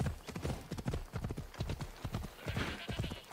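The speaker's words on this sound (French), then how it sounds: "Ils ont pas rigolé hein, quand c'était un cheval macédonien." Hooves of a Macedonian horse clip-clop in a brisk, even rhythm in Assassin's Creed Odyssey. The close, steady hoofbeats continue for a few seconds without a break, with a faint whinny-like sound near the end.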